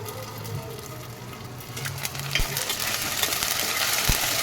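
Ingredients for a Sunday moya fish pulusu sizzle steadily in a pan, with scraping stirring strokes building slightly louder over a few seconds.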